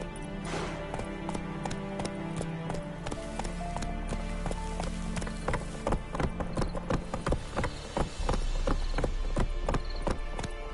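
Roach, the horse in The Witcher 3 game, gallops with rapid, steady hoofbeats that drum close and clear over a continuous game soundscape.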